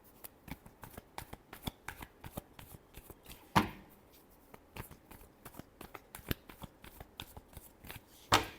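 Tarot cards shuffled by hand in a run of quick, crisp riffling flicks, with two sharper card snaps standing out partway through and near the end. The shuffling plays close and alone, with no talking.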